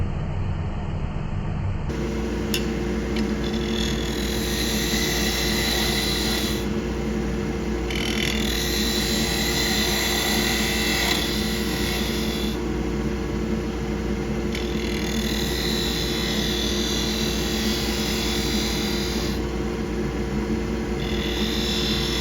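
A lathe spins a small wooden tool handle while a 1/2 inch spindle gouge cuts it, giving a continuous loud motor drone with a rough scraping hiss that swells and eases in repeated passes.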